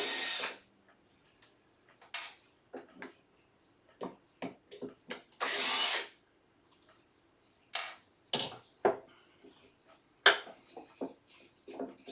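Power drill backing screws out to remove a wheel from a wooden sewing table, heard as short, close buzzing runs and clicks mixed with handling knocks, with quiet gaps between.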